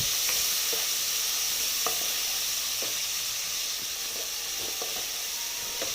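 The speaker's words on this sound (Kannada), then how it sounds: "ಕರಿಬೇವು ಮತ್ತು ಟೊಮೊಟೊನ ಹಾಕ್ಕೊಂಡು ಸ್ವಲ್ಪ ಫ್ರೈ ಮಾಡ್ಕೊತೀನಿ." Curry leaves and tomato frying in a very hot, smoking pan for vegetable sambar, giving a loud, even hiss and sizzle with occasional light stirring clicks, close up and without speech.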